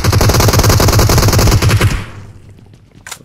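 Rapid automatic gunfire from PUBG Mobile fighting around houses on the Vikendi map, loud dense bursts for about two seconds, then cutting off into a quieter tail with a faint sharp sound near the end.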